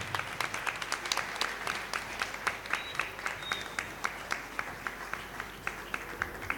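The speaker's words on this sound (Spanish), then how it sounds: "Que se escuchen los aplausos fuertes." Church congregation clapping to welcome a visiting brother to the stage: a steady rhythmic beat of claps, roughly two per second, over a softer bed of scattered applause, heard from some distance.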